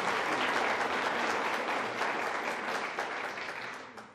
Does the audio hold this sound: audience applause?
yes